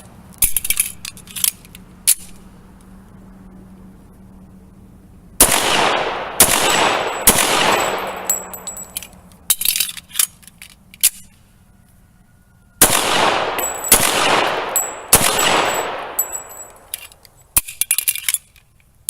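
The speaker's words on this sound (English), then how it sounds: "fire them as fast as I can and do some mag changes while I'm doing it" A Rock Island 1911 .45 pistol fires in rapid strings of sharp, loud shots outdoors, broken by pauses for magazine changes, with metallic clinks between volleys.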